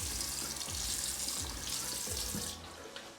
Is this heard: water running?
yes